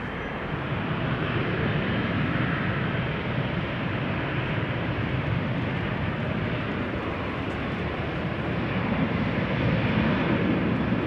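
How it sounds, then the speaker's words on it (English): A Delta Airbus A330 airliner at Amsterdam Schiphol Airport produces a continuous broad engine rumble and roar, steady and fairly loud, heard at a distance without voices. "Think that was the Delta A330"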